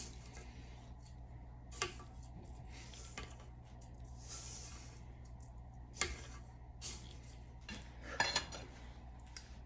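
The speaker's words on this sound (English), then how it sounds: "I'm going to mix it up here because I'm sure there's some whiter stuff on the bottom" Homemade brown sugar being stirred in a bowl, faint scraping and light clinks of a spoon against the bowl at irregular moments over a steady low background hum, quiet and close.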